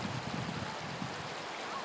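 Water of the South Fork of the Shenandoah River near Elkton, Virginia flows past a kayak in a steady, broad rush with faint low burbling. The sound is continuous and fairly quiet, and no one speaks.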